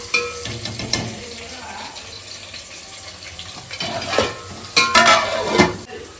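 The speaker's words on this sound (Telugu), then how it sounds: "అది ఇప్పుడు ఉడికేటప్పుడు మంచిగా పూలు వస్తున్నాయి." Bagara rice and mutton curry cooking in a pot: wet bubbling and sizzling under scraping stirring, with a few louder clanks of the utensil against the pot near the end.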